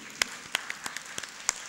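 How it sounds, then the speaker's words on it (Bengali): A few hands clap for a dancer on a dance competition show, sparse, separate claps in an uneven rhythm over a quiet room. "জোরে হাততালি ওর জন্য প্লিজ।"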